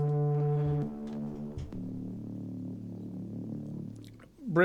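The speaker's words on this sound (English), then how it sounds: "I created to kind of create like foghorn type of sound, like this kind of brassy" A deep, brassy synthesized drone like a foghorn, with a strong sustained low tone at first, then a softer filtered hum that swells near the end.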